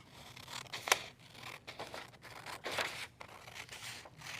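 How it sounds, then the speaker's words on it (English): Scissors snipping out paper wireframe screens for a prototype, soft crisp cuts and rustling of the paper, close and quiet, with one sharper snip near the start and no voices. "I'll grab a pair of scissors and cut out every screen,"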